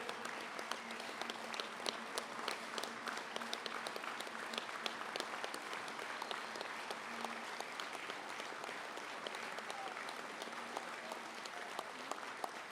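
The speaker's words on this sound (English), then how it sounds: "let's give them a round of applause" Sustained loud applause from a convention audience at an ILWU Local 142 union gathering, dense continuous clapping filling a large hall without a break.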